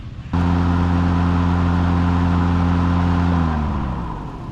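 An EGO battery lawn mower runs on its Eco setting, starting abruptly into a steady, loud motor whir with a strong even hum that begins to wind down near the end. No one talks.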